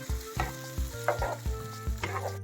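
An okra curry with tamarind simmering in a pan sizzles and crackles as water goes in and gets stirred, with several short bursts of frying hiss and scraping in a loose rhythm, fairly close and without speech.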